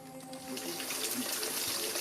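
Mountain water pouring into a tank, a steady close gushing splash that swells slightly after the first moment and continues evenly without voices.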